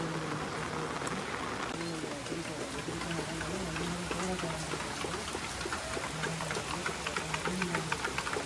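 Steady rain in Vaddukoddai, Jaffna, Sri Lanka patters and hisses on surfaces, with scattered drops ticking through a constant wash, and a voice murmurs faintly underneath.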